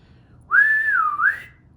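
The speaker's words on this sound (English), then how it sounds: "He whistled, a warning that something was amiss" A man's single sustained whistle, rising then dipping and rising again as a warning call, loud and close, about a second long against quiet background.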